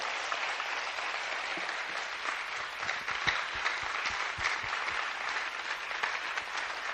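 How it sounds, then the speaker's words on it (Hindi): A congregation at a church service claps together in a dense, steady roar of many hands, with individual claps standing out, sustained for about seven seconds without talk. "Come on, give a good clap for the Lord."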